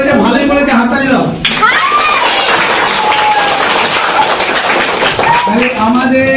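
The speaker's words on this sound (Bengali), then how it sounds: "হাততালি দাও" Schoolchildren applaud in a classroom, a loud, close burst of clapping with voices mixed in that runs for several seconds.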